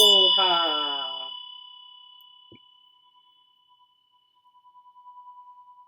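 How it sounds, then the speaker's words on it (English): A meditation bell rings just as a chanting voice trails off, then its clear sustained tone hangs in the quiet and fades slowly over several seconds. "I was just taking my time putting the bell down because I like to hear, just like to listen to it fade."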